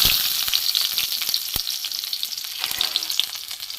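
Chopped garlic frying in mustard oil, a steady bright sizzle with crackles and a few sharp pops, close and constant with no talk.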